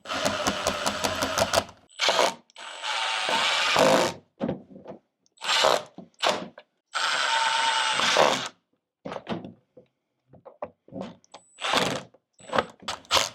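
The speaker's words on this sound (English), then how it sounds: "we just drill those screws in" Short bursts of a power drill driving screws into a door hinge at close range, starting and stopping repeatedly with brief pauses between, alongside a few clicks and clatters.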